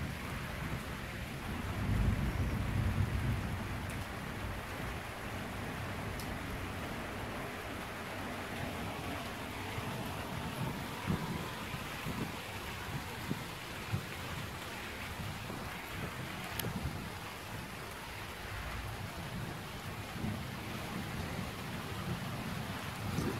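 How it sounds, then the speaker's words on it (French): A heavy thunderstorm with lightning and rolling thunder over steady rain, a broad continuous hiss of rainfall with a deep rumble swelling early on, fairly distant and constant throughout. "Tellement costaud au niveau éclair et coup de tonnerre que même les lumières chez moi, par moments, ils faiblissent."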